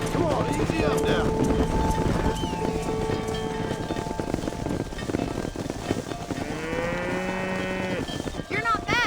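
Cattle moo repeatedly while being herded in the Western game Red Dead Redemption, long drawn-out lowing calls rising over a busy ranch scene, with hoofbeats, movement and someone speaking over much of it.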